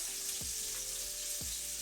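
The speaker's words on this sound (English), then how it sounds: "That chicken is sizzling back there." Faint, steady sizzling of chicken frying in a pan, a continuous hiss with a couple of soft low thumps.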